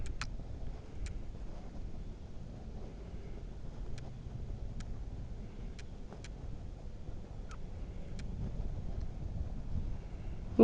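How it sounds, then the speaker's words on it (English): Wind buffeting an outdoor microphone beside a pond, a steady low rumbling roar throughout with faint sharp clicks scattered across it. "A little windy."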